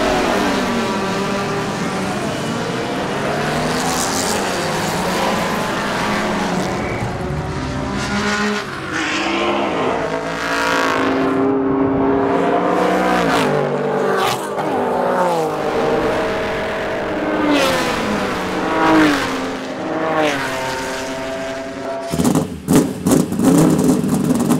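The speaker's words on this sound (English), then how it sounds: "The little 327, it screams." A historic race car with a 327 V8 of about 500 horsepower screams at high revs on a race circuit, loud and close, its pitch rising through the gears and falling on the shifts.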